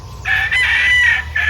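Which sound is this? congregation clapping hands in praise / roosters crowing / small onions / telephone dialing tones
roosters crowing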